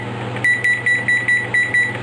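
A kitchen timer beeps in quick, regular electronic pulses, about seven short tones over two seconds, with a steady low hum and faint kitchen background underneath.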